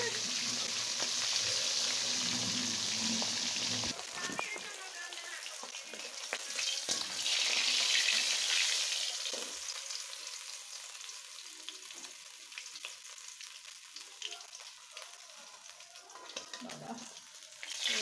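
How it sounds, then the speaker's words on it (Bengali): A chitol fish head fries in oil in a pan with a loud crackling sizzle and spattering, interrupted by stirring and clatter, then easing to a quieter, sparser sizzle. "মাছটা আমি একাই মাথাটা ভেজে নিচ্ছি"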